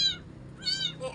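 Small rescued kittens meowing in two or three short, high, plaintive cries, close by, with a faint low hum underneath.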